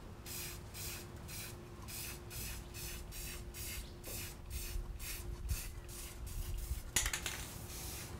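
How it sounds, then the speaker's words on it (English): A nearly empty spray paint can hisses outdoors in a rapid series of short, close bursts with a steady hum underneath, ending in a brief sharper spurt, while wind starts to pick up. "Last little spray"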